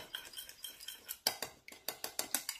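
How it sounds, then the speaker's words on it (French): A spoon stirs a paprika and coarse Guérande salt marinade briskly, scraping and clinking against the bowl in quick rhythmic strokes, close up and clear with no voices. "là pour l'instant, je mélange rapidement la petite marinade"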